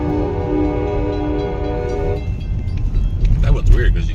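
A train passes and sounds its horn in West Virginia: a sustained multi-tone horn blast holds for about two seconds, then gives way to rumbling wheels and rail noise. Voices speak over the passing cars.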